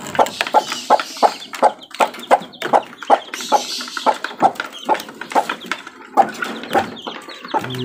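Chickens and newly hatched chicks cluck and peep in a rapid, regular series of short calls, close and fairly loud, with no one talking.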